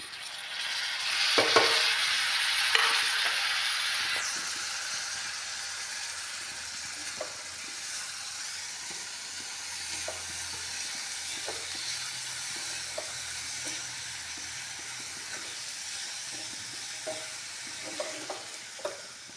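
Tomatoes and green chillies added to frying onions in a pan, an initial loud hissing sizzle that settles into a quieter steady crackle with occasional stirring clicks and scrapes, with no talk.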